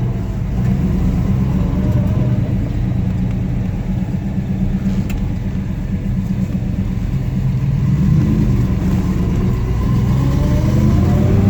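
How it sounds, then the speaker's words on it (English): A 1972 Chevelle SS with a Muncie four-speed gearbox drives along at about 1,500 RPM, its engine rumbling steadily and loudly throughout, with a faint gear whine riding on top. "You can hear the gears a-whining in that sea-coated Muncie"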